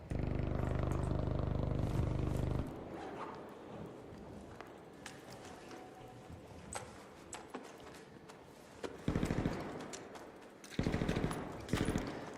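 ARC Raiders gunfire in a cold snap match, with a dense stretch of rapid automatic fire at the start, then scattered single shots and two more short bursts later, with quieter game noise between.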